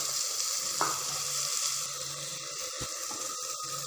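Ginger, garlic, dried coriander, chilli paste and tomato sizzle steadily in a hot pan, a continuous bright frying hiss with a brief clink near the start and soft scraping toward the end.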